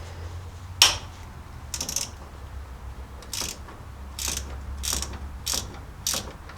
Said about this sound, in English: So I'm going to take that off with just a 1/2-inch socket